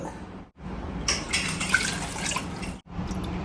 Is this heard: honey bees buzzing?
no